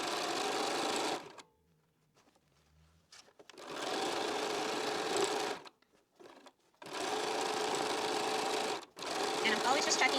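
A sewing machine stitches quilt pieces in fast, steady whirring runs of a few seconds each, stopping and starting between bursts, heard up close and fairly quiet.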